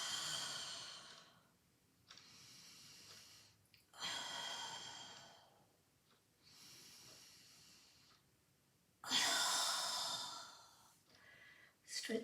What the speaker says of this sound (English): Take a big deep breath in. 3 big deep breaths in through your mouth.